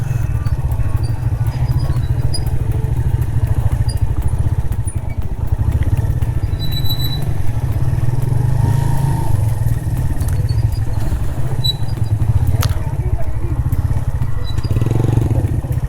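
A motorcycle rides over a rocky track toward Panjpeer Rocks, its loud engine droning close and steady throughout, with rattling and clatter from the rough ground.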